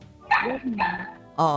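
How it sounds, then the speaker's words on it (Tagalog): A dog barks outside a house in a few short, bright bursts, close and fairly loud, mixed in with people talking. "Hindi na namin kinakaya pala yung tunog ng aso dyan sa labas ng bahay ninyo."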